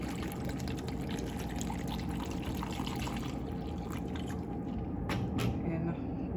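Tap water pours steadily into a Nutribullet smoothie cup while a moringa smoothie is being made, a continuous close splashing stream with a few brief brighter drips near the end.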